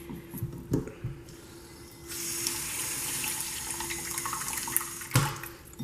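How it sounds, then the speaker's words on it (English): Tap water runs into a bowl of oatmeal in a kitchen, a steady close hiss of pouring that lasts several seconds, framed by clinks and handling bumps at the start and end. "I'm just gonna dump the oatmeal in here, and then I'm gonna add some water."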